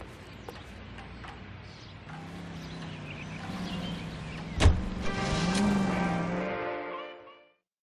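In L.A. Noire, a car's engine hums steadily and rises in a smooth whine, with a sharp click partway through, before the motor cuts out into silence.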